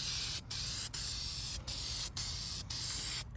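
Rust-Oleum hammered spray paint hisses from an aerosol can onto a rusty 1955 Westinghouse fan in close, loud bursts, with about six brief gaps as the nozzle is released and pressed again.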